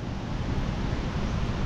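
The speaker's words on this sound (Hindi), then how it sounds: "यहाँ पे एक ये झरना भी है, वाटरफॉल है भयंकर वाला" A powerful Himalayan waterfall rushing nearby, a dense, unbroken roar of falling water that fills the whole clip at steady loudness with no voices.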